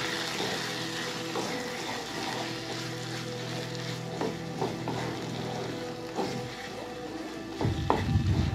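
Egg pieces are stirred through a spiced masala in a pan, giving a continuous frying sizzle with scraping spoon strokes and a rougher burst of stirring at the end, close and without speech.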